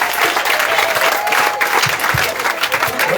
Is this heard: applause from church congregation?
yes